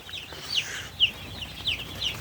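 Broiler chicks huddle under a heater on a farm, giving four short high peeps over a soft steady hum of the shed, nearby and moderately loud.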